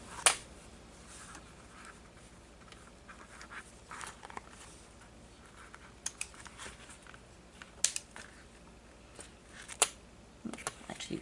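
Sewing scissors trim fabric ends for a glasses case, giving a few sharp, isolated snips spread across a quiet background with faint handling noises.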